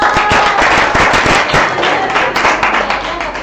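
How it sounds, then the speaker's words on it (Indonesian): Students applauding together in a school classroom, a loud close burst of dense hand claps that continues steadily and tapers slightly toward the end. "Tepuk tangan dulu dong"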